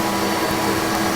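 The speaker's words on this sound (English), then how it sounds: "turns on my shop vac" A shop vac on a Harbor Freight blast cabinet runs loud and close, a steady broadband motor roar with no break across the short stretch.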